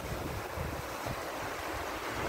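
Sea surf at a beach resort in Alcoy, a continuous broad wash of waves mixed with wind buffeting the microphone, steady and fairly loud with no voices.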